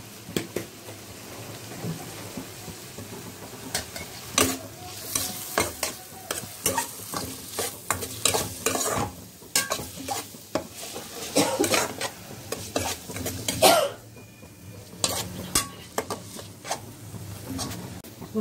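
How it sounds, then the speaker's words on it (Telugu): Food deep-fries with turmeric in a pan, a steady close sizzle broken by repeated scraping stirs and clanks of a utensil against the pan. "డీప్ ఫ్రై చేసేసుకుందాం."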